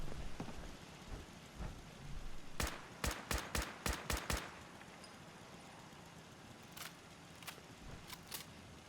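Explosive Mark 7 turrets firing in Fallout 4, a rapid burst of about eight sharp blasts, then a few more scattered shots over crackling, rain-like background noise.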